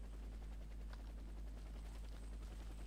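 A helicopter in the shooter game Warface thrums with a continuous rapid rotor chop, loud and steady, with no talking over it.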